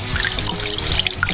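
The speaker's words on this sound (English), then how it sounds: "Pour in the milk," Milk poured into a frying pan of melted butter and flour, a soft continuous trickling and splashing of liquid, steady and close, with no voices.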